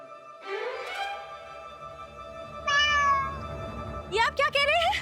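A cat meows three times, long drawn-out tonal cries with clear pitch bends, close and prominent against a quiet background, the last call rising and wavering.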